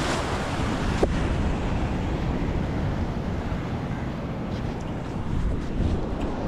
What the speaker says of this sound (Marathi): लाटा तर इतक्या जोरात येतात ना